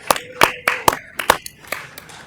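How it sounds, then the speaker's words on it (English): A handful of sharp, uneven claps ring out at a school district governing board meeting, sparse and close, like a small group starting to applaud. "we can recognize them with some applause for their time"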